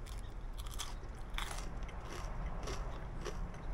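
Crunchy fried General Tso's lobster is bitten and chewed close to the ear, a quiet run of crisp crackles and crunches with no talk.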